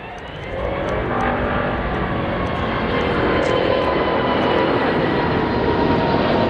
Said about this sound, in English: This Airbus A380 became unstabilized on short final,